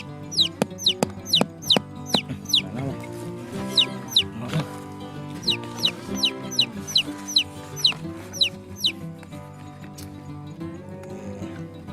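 Chickens cluck and squawk in quick repeated bursts, fairly close and loud, with overlapping calls against a humming, music-like background.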